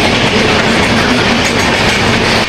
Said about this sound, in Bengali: আমাদের সঙ্গে ক্রসিং করছে বন্দে ভারত দিল্লি বারাণসী।